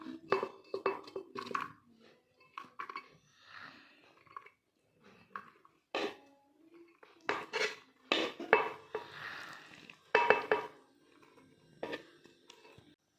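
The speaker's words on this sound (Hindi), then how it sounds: "अब ये जो दाल है ये जग में मैं डालने लगी" Cooked chana dal is spooned into a blender jug, with a series of scattered clinks and scrapes of a utensil against the jug, some louder knocks among quieter rustling, close up and alone.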